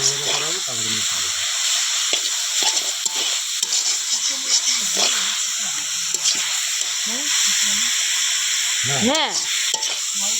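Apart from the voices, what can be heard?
potatoes frying and being stirred in a pan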